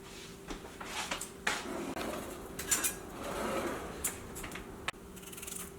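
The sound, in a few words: knife cutting potatoes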